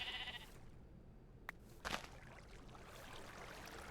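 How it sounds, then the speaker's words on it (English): A single short sheep bleat from the video game Minecraft rings out over a steady background hiss, brief and fairly close, with a fainter burst just before it. "Was that a sheep that made the sound"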